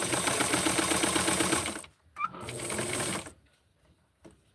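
A sewing machine stitches small doll clothes in two quick, rapid-fire bursts separated by a short pause, followed by faint handling clicks, close and clear with no talk.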